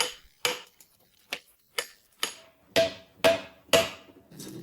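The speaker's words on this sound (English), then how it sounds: "just hundreds of precise hammer strikes" Repeated sharp metallic hammer blows on a thin copper sheet, about eight strikes at an irregular, steady pace, some with a ringing tone, close and clear.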